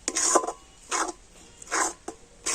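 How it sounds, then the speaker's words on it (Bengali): Milk thickening with cardamom powder for sarpuria sweets is stirred by hand in a pan, giving three or four separate scraping rasps roughly a second apart, moderately close, with no talk. "তো এইভাবে নাড়তে নাড়তে এটাকে কিন্তু একটু টাইট করে নিতে হবে।"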